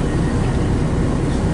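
A train engine on a Stratford-upon-Avon service rumbles steadily close by, a dense, even drone with no voices.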